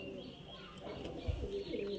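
A pair of Giribaz highflyer pigeons coo softly and low, faint and continuous, with light chirps over a quiet background.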